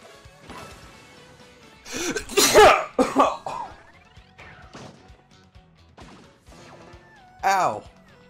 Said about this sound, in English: Why did a sneeze turn into a cough at the same time?